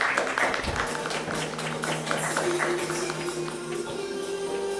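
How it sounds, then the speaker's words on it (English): A conference audience at a healthcare innovation event applauds continuously, the clapping dense and steady throughout with faint room noise beneath. "Can we give a huge round of applause,"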